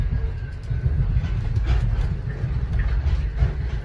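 Steady low rumble of The Overland passenger train running between Adelaide and Melbourne, with faint rhythmic clatter of wheels on track, heard from inside at moderate volume.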